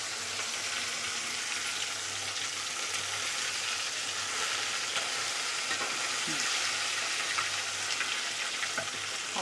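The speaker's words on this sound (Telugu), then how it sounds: "ఆయిల్లో ముక్కలు మెలిగేదాకా బాగా సిమ్లో పెట్టి బాగా ఫ్రై చేసుకోవాలండి, క్రిస్పీగా రావాలి." Fish pieces fry in hot oil with a continuous dense sizzle and crackle that holds steady throughout, a few faint clicks near the end and no voices over it.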